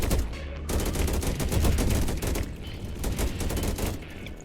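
Rapid bursts of gunfire from the player's weapons in a video game set against a horde of enemies, loud and close, sharp shots in quick overlapping volleys with almost no pause.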